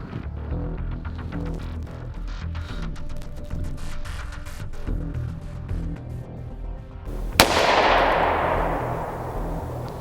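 .45 ACP Glaser Safety Slug fired through drywall into ballistic gel outdoors at dusk: a single sharp, loud report that decays into a long rumbling tail, preceded by steady low background noise.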